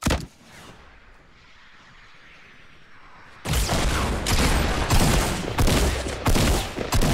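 A brief shot, a lull of low rumble, then rapid bursts of Fortnite gunfire crackling loudly, fast and sustained with small gaps.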